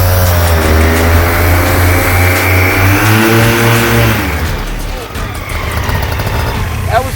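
A Gen 5 Fly-Pod engine revs at about quarter throttle, its loud droning tone climbing steadily before cutting off abruptly into quieter rumbling.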